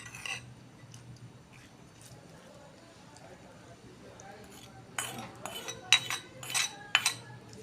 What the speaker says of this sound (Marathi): आणि ह्याला छान मिक्स करून घेणार आहोत